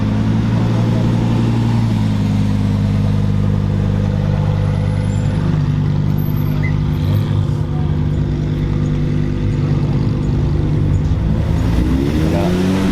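A white Lamborghini Huracan Performance drives by loud and close, its engine droning and revving with a rising pitch sweep near the end, alone without voices.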